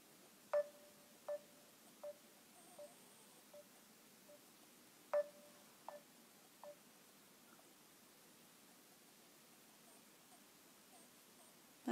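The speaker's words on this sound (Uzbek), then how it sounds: "birsiga telefon urib baqay" Telephone keypad tones sound faintly, as a series of short, separate beeps spread unevenly over several seconds against a quiet, hissy background.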